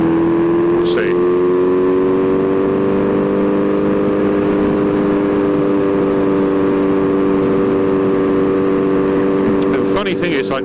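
Kawasaki Z900RS cafe with a full Racefit titanium exhaust cruising steadily at about 3,000 RPM in sixth gear, a close, even engine drone holding a constant pitch under wind noise.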